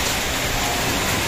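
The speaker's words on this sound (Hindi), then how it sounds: "अभी बारिश हो रही है बहुत तेज" Heavy rain pours steadily outside a village shop, a dense, continuous hiss of drops drumming on surfaces throughout, with no voices heard.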